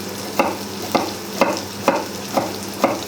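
Onions stir-fry in a pan for greens, a continuous close sizzle broken by six regular scraping stirs, each a short bright sweep about half a second apart.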